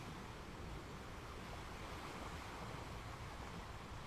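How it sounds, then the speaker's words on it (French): Ocean waves breaking and washing in as a continuous soft surf hiss, steady and fairly distant with no distinct crashes, faint and alone without any voices. "le bruit des vagues"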